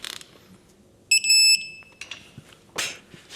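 An electronic torque wrench tightening engine bolts during an engine assembly gives a bright, steady beep of about half a second once the set torque is reached, amid light clicks and handling noises.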